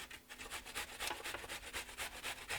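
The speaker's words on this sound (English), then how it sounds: "Now we're just on a cheese grater, just breaking it down." Food being rubbed down a cheese grater in a kitchen while cooking with onion, a steady series of close, rasping scrapes repeating in a quick even rhythm, with no talking.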